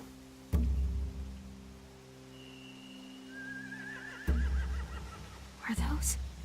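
Horses whinny and snort nearby in a dark setting, their calls rising briefly over low ambient rumble and a few heavy thuds.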